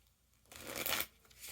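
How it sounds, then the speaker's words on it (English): Tarot cards riffled in a single brisk shuffle, a short papery burst close to the mic in an otherwise quiet room. "I wanna shuffle the cards one more time."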